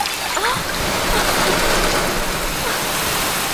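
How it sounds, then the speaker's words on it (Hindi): Steady rain pours down as unseasonal showers set in, a dense, continuous hiss like running water filling the scene at even, fairly loud level with no voices. "लगता है बेमौसम बरसात होने वाली है"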